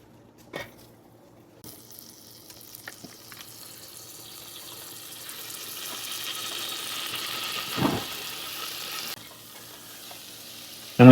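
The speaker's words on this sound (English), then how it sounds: "I'm gonna use the butter to fry that nutmeg just a little." Nutmeg frying gently in a tablespoon of melted butter in a pan for keto eggnog: a soft, steady sizzle that slowly builds, with a few light clicks and scrapes of a utensil and one sharp clatter near the end.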